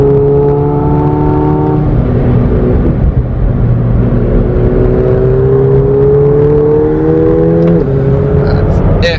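A McLaren 720S sports car accelerates hard on a race circuit at the British Race Festival. Its loud, close engine note climbs steadily in pitch, dips with a gear change near the end, then climbs again.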